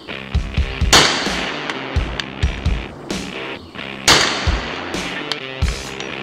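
A firearm fired in repeated bursts, made out as the iconic movie and video game gun, with a rapid string of sharp loud cracks near the start and another burst midway, each dense and close, no talk over them.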